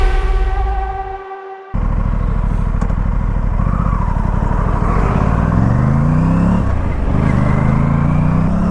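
A KTM RS457 motorcycle engine on the Shamirpet Ring Road service lane, loud and close, idling with a throaty low rumble and then revving, the pitch climbing and dipping through several throttle blips.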